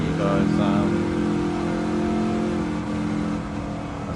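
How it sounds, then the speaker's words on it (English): A Ford Mustang touring car (the Sandvik Mustang, #49) sounds from on board during testing at Watkins Glen, its engine holding a loud, steady, droning note for about four seconds with a slight fall near the end. "let you guys listen to the engine of this Ford Mustang 49."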